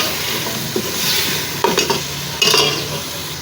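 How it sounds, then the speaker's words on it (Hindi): Grated tomatoes hit hot oil in a pan of chicken gravy for a black pepper chicken shorba, giving a steady close sizzle and frying hiss, with a few stirring scrapes and utensil clinks over it. "अब जल्दी से डाल देते हैं टमाटर"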